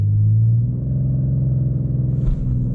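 A 2022 BMW M240i launching under launch control, a loud, deep engine rumble that holds steady as the car pulls hard, with a brief shift-like dip near the end.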